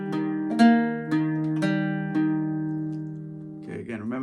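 Irish bouzouki playing a phrase of The Glasgow Reel, five picked strums in an even rhythm ringing close and clear with long sustain, followed by a brief bit of speech at the end.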